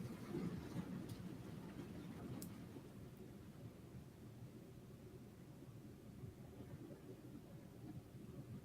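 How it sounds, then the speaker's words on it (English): Heavy downpour of rain, a dense steady hiss and rumble that is slightly louder at the start and then settles into a constant wash of noise with no voices. "quite a downpour right now here, so it's loud"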